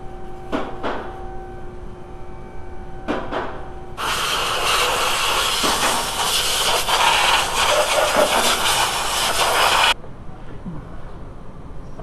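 A strong water spray hisses loudly and steadily for about six seconds over the engine bay of a VW B5 Passat 1.8T, preceded and followed by brief clanks and quiet shop ambience.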